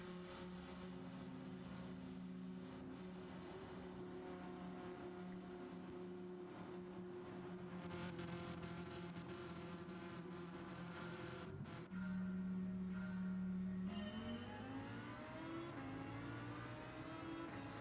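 Race cars in Gran Turismo 7 at Circuit de Barcelona-Catalunya drone steadily, with engine tones holding and shifting, a sharp change near twelve seconds, then rising revs as cars accelerate, all faint and without talk.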